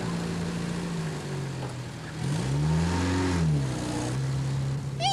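A car driving off nearby, its engine revving and rising in pitch with a swelling tone in the middle, then fading slightly as it pulls away.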